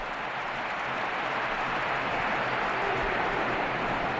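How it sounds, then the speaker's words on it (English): A stadium crowd at the Bernabeu applauds Cristiano Ronaldo during a Real Madrid versus Barcelona match, a steady, dense roar of clapping and cheering that stays loud and unbroken throughout. "A round of applause for the hero of the Bernabeu, Cristiano Ronaldo"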